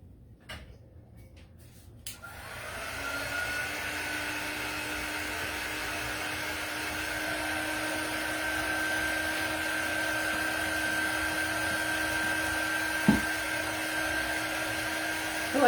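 Hair dryer drying paint on a wooden floral decor craft sign: a brief quiet handling rustle, then the dryer switches on and blows a steady, loud whooshing whine to the end, with a single knock near the close.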